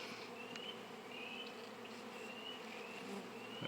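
Honeybees from a hive with a drone-laying queen buzz steadily and densely nearby, a continuous droning hum with individual bees whining past.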